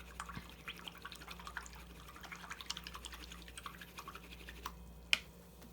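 Soft swishing and dripping water as a paintbrush is rinsed after acrylic painting, faint and close, ending with a sharp tap against the container.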